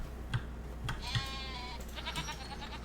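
Sheep in a farming video game bleat a few times close by, short wavering calls over a low steady hum with faint clicks.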